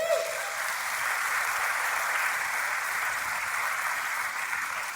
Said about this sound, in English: Got quite the cheering section.